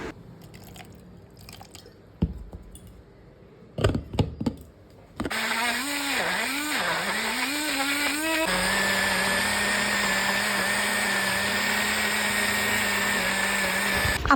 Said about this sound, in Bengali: এবার আমটাকে ভালো করে অল্প জাস্ট সামান্য একটুখানি জল দিয়ে গ্রাইন্ড করে নেব, মানে একটা স্মুদি পেস্ট বানিয়ে নেব।